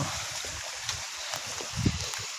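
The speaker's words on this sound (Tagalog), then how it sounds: "At lagaslas ng tubig." Gurgling water of a stream in a wooded spot, a faint steady wash with small low burbles and a slightly stronger splash near the end, no voices.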